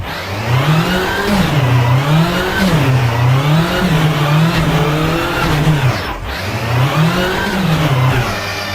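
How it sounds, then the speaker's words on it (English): A rally car in Richard Burns Rally accelerating hard in second gear, its engine note loud and close, rising and falling in repeated revving swells with a brief lift-off near the end. "Accelerate to about 60 in second gear"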